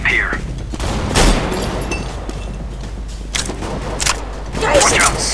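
Gunfire in CS:GO, a few loud sharp shots cracking over a steady rumbling game background, with bursts spaced irregularly through the scene.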